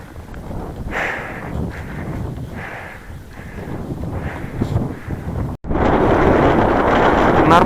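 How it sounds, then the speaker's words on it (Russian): Strong, cold night wind in Tibet roars across the microphone in continuous gusty rumbles that swell louder toward the end, with a voice talking faintly underneath. "Нормальный ветер ночью спит, а тибетский какой-то шальной."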